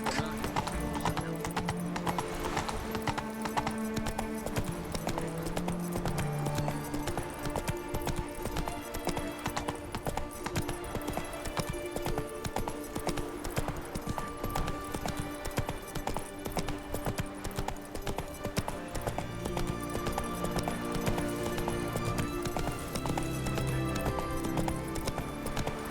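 Roach, Geralt's horse in The Witcher 3, gallops with steady, rapid clip-clop hoofbeats that run throughout over a busy game soundtrack, with an occasional whinny.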